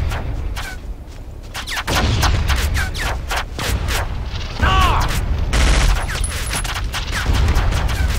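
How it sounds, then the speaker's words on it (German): Rapid bursts of gunfire in the video game Battlefield Vietnam crackle in uneven volleys through a jungle, some close and sharp, others distant, with brief mechanical clicks in between. "Ich frag mich, wo die ganzen Schüsse immer herkommen jetzt."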